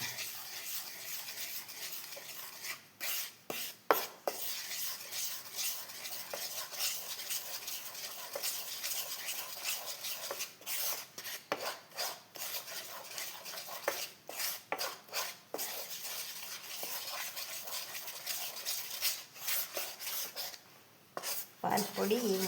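Eggs are stirred briskly in a bowl, producing rhythmic bursts of scraping and light clinking that come and go in quick strokes, fairly quiet and close.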